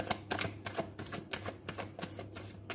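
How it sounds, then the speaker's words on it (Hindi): A tarot deck being shuffled by hand gives a quick, crisp series of papery slaps and riffles in a regular rhythm, close up and moderately quiet, with no speech. "तो चलिए हम कार्ड्स को पहले शफल कर लेते हैं अच्छे से"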